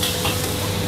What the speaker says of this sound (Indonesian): ini bawang putih kita udah mencoklat, sekarang kita siram air.